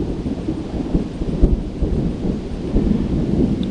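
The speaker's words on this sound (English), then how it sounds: "This storm front is going southeast." Rumbling thunder from an approaching storm front, with low rolls and a sharper crack midway over a steady wash of rain, close and continuous without speech.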